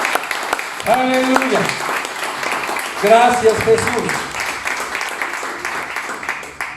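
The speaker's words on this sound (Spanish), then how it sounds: "Dale un aplauso al Señor." A church congregation claps in praise, a moderate ripple of applause running beneath a preacher's sung and spoken exclamations, fading out toward the end.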